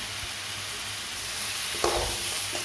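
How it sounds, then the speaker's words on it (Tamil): Chutney ingredients fry in a pan while being stirred, giving a steady broadband sizzle with a brief louder scrape of the spoon near the end, no talking. "ஒரு நிமிஷத்துக்கு நல்லா கிளறி விட்டு அதுக்கப்புறம் நம்ம பூண்டு, இஞ்சி நம்ம சேர்த்துக்கலாம்."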